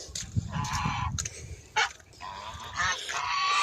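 Several African geese honk loudly nearby in harsh, repeated calls that overlap and come in quick bursts, with no talking.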